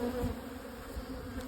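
Honey bees buzzing inside a commercial hive with a worm-infested pollen patty, a steady close, low drone of many wings, continuous and fairly quiet with no voices.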